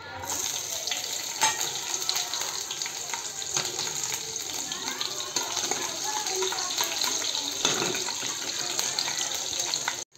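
Sago pearls tipped into hot oil with salt in a home kitchen, a steady close sizzle and frying hiss with occasional stirring clinks, running throughout and cutting off abruptly.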